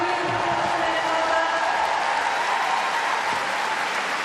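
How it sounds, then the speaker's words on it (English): A large arena crowd applauds steadily after a men's vault final at the 2022 World Artistic Gymnastics Championships, a dense, loud wash of clapping that holds for the whole stretch. "You can hear, I'm sure, the reaction from the crowd."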